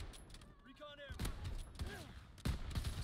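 Shotgun fire in Call of Duty WWII: a few heavy, booming blasts spaced about a second apart, fairly faint overall, with a player's voice talking in between.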